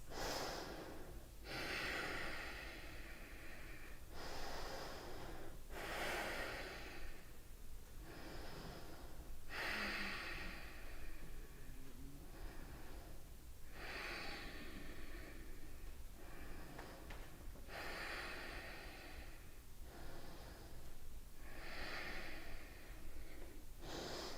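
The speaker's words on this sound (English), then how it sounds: "Keep deepening your breath and make this practice a dedication to your breath." Deep, slow breathing during a vinyasa yoga flow: long audible inhales and exhales repeat in a steady rhythm roughly every two seconds, close and breathy with no talking.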